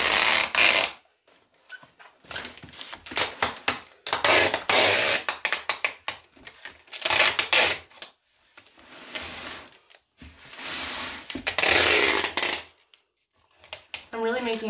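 Packing tape is pulled off the roll and wrapped in continuous loops around a packaged artwork, loud ripping screeches in repeated long bursts separated by short pauses.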